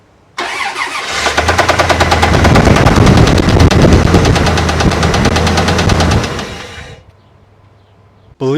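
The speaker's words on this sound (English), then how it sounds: "the sound we just heard, I think, is just a spun bearing in the bottom end of it" Car engine with a spun bottom-end bearing during an engine rebuild, starting up and running with a rapid loud metallic knocking rattle throughout, close and harsh, before shutting off.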